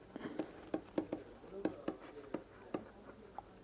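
A pen scratches across paper in short, separate strokes, close and fairly soft, with a quiet room hum behind them.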